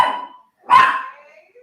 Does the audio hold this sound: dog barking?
yes